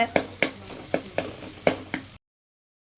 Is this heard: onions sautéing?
yes